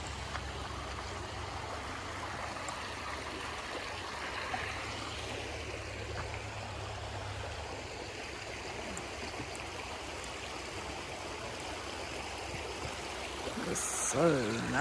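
Steady rushing and gurgling of a mountain stream flowing over rocks near Cataract Falls in the Great Smoky Mountains, a constant close wash of water with no clear voices.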